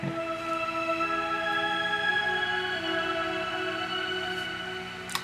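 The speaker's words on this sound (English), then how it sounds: "another choir, which is a little bit more higher pitched" A higher-pitched choir layer sits in a pop remake of a song. It holds sustained, overlapping vocal tones at a soft, steady level, with a faint click near the end.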